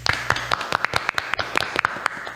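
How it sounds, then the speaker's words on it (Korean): A small group claps briskly in a studio to open a Korean talk show about buildings and real estate. The claps are close, crisp and uneven, packed into a short burst of about two and a half seconds. "박수."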